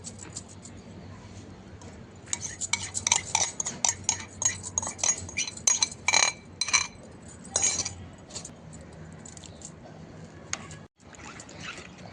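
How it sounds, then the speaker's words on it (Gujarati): A spoon clinks and scrapes inside a kadai as warm masala spices are stirred into yogurt for dahi tikhari, with a run of bright metallic taps and clinks in the middle and a faint background hum. "બધો જ મસાલો આપણે હવે દહીંમાં સારી રીતે મિક્સ કરીશું"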